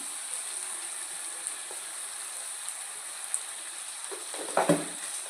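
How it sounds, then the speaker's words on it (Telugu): Onions with turmeric and chili powder fry in a pan with a soft, steady sizzle, quiet and close, broken by a brief stirring scrape near the end. "మళ్ళీ బాగా ఫ్రై చేసుకోండి"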